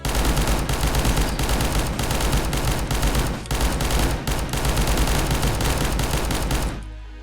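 Weapons in the video game Shortventure fire in dense, rapid bursts, a loud continuous barrage of shots with brief pauses that stops abruptly at the end.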